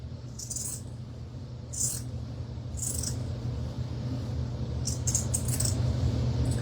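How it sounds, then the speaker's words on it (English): Scissors snip through an old denim jeans pocket in a handful of short, crisp cuts spread across a low, steady background hum, with quiet pauses between the snips. "I want to cut the other one out as well"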